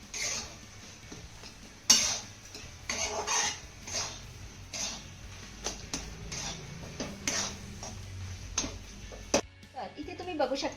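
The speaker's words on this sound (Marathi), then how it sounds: "हे सगळं साहित्य चांगलं मिक्स करून घेऊया" A spoon stirs a ripe banana sweet mixture with cashews, almonds and cardamom in a pan, giving repeated close scraping and clinking strokes under a woman's speech.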